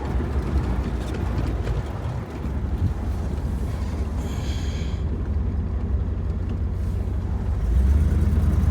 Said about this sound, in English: Out for a test drive.